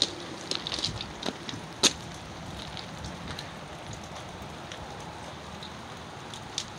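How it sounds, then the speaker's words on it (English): Rain falling outdoors around an old, badly beat-up car: a steady, soft hiss of drops with a few louder patters and ticks, faint and continuous, with no voices. "Yes, it is raining out."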